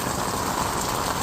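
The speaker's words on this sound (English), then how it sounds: "That's a lot of rain, all right?" Heavy rain pours down in Southern Nevada, a dense, steady hiss of drops on surfaces, close and unbroken.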